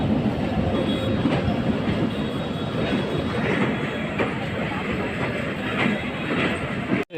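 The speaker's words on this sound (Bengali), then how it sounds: "দেখছেন যে আন্তনগর ট্রেনটি এই মুহূর্তে আসলো" An intercity train bound for Khulna rumbles steadily past a railway gate in Rajbari district, with a loud, continuous roar of wheels and carriages and faint clicking that holds for several seconds before cutting off abruptly.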